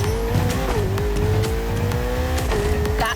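Ferrari 488 driving at high speed in the racing game The Crew Motorfest, a loud steady engine drone with tire squeals and brief skids, heard alone without talk.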